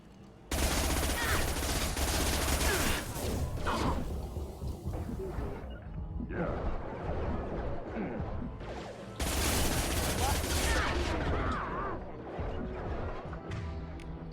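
Heavy bursts of automatic gunfire as hunters battle in Mass Effect 2, loud stretches of rapid shots broken by a quieter gap with voices and effects, then another loud barrage.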